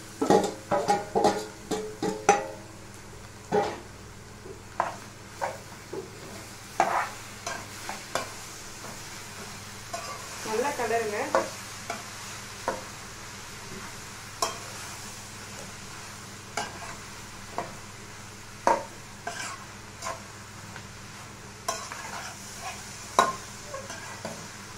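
Shark fish puttu being stir-fried with softened onions in a pan, a continuous low sizzle punctuated by frequent sharp scrapes and taps of the spatula against the pan, close and with no voices.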